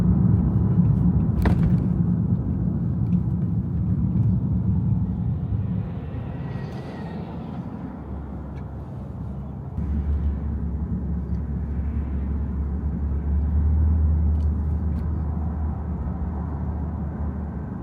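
A BMW 630i convertible with a six-cylinder engine cruises along an Irish country B road, giving a continuous low rumble of engine and road noise that swells slightly toward the end, with no talk.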